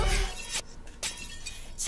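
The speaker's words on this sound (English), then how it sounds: "It's like glass breaking as a transition back into 4." Glass shatters as a sound effect inside a K-pop song, marking a musical transition. Several bright, crashing bursts break over the music in quick succession.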